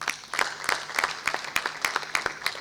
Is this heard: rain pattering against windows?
no